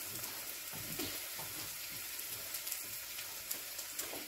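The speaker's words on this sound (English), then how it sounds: "the onions, give them a quick stir" Onions frying in a pan, a steady soft sizzle with faint intermittent scrapes of stirring, close but quiet and without any voices.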